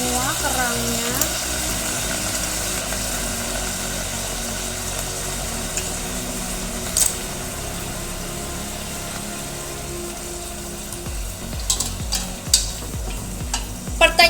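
Clams go into a pot for ginger clam soup, giving a steady, close sizzle and bubbling with stirring scrapes and a few clinks near the end, with no talk over it.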